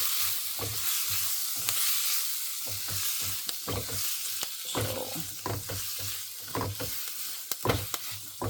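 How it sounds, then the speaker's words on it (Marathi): Onion and tomato frying in oil in a pan for paneer bhurji, a constant soft sizzle broken by repeated spatula stirs and scrapes against the pan, no talking. "हे आता तेल सुटेपर्यंत फ्राय करायचं आहे, लो ते मिडियममध्ये. त्या टोमॅटोला छान फ्राय करायचं आहे."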